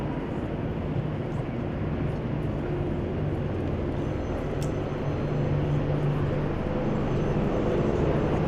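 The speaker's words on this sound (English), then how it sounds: "Military Apache helicopters, and of course, Western County Sheriff's Office." Military Apache helicopters fly over an outdoor memorial ceremony, producing a continuous loud low rumble and droning roar that holds steady throughout with no speech.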